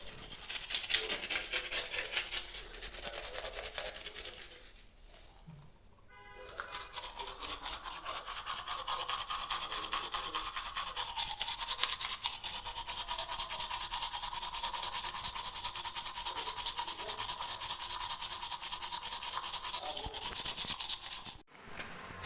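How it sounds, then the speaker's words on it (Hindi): Teeth are brushed with a toothbrush, making brisk, continuous scrubbing close up, with a short pause near the start. "ब्रश करूँ, मुंह धो लूँगा"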